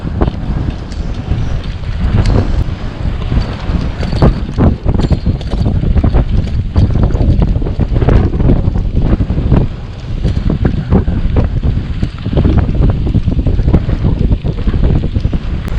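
Wind blows hard outdoors during a mountain trip at Nagalkhan, buffeting the microphone in a loud, continuous roar with gusty surges and no talking.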